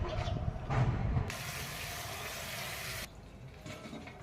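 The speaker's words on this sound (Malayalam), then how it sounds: "ഇതൊന്ന് ഫ്രഷ് ആയിട്ട് കഴുകിയെടുക്കണം" Picked leaves are washed under a running tap, and the water noise shifts as they are moved about. A strong steady stream runs in the middle stretch, and no one talks.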